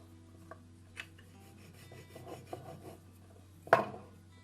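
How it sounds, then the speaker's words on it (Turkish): A rolling pin passes over thin gol gappa dough, giving soft rubbing, scraping strokes at an uneven rhythm, close up and quiet, ending with a sharper knock. "merdane ile şöyle üzerinden bir kere daha geçelim"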